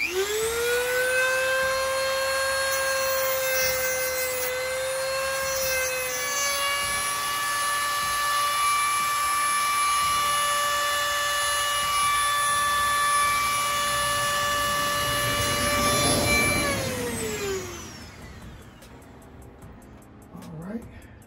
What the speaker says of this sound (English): Okay, we're just gonna deburr these.